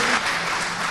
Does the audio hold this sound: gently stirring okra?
no